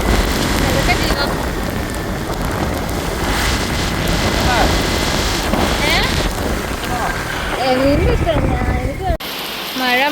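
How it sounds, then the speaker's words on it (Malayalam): Rain pours in Bali, a loud continuous patter drumming on a nearby surface with wind buffeting the microphone, while people talk over it and birds chirp toward the end. "മഴയാണ് മഴ"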